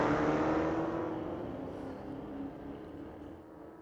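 Engine roar from a 1977 Camaro and a Challenger drag racing at Mission Raceway street legal drags, a fairly faint, distant rumble that fades away over a few seconds.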